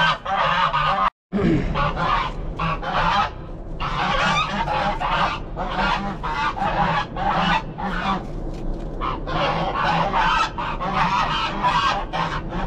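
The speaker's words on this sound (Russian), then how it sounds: "Белые гуси, конечно, спасли Рим, но гогот уже надоел." White domestic geese on a village farm honk and cackle loudly and nearly nonstop, overlapping calls from several birds close by, with one brief silent gap early on; no talking.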